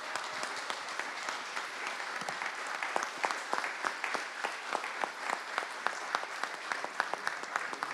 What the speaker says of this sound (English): So please a big clap for Paula.